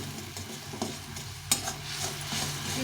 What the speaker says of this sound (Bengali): আর এক চামচ হচ্ছে লঙ্কা গুঁড়ো এটা কাশ্মীরি লঙ্কা গুঁড়ো দিয়ে এটাকে ভালো করে আবার কষিয়ে নেব